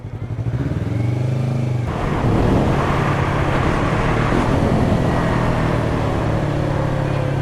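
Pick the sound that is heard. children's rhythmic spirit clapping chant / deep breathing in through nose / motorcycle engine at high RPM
motorcycle engine at high RPM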